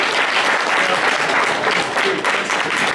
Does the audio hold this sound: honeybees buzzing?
no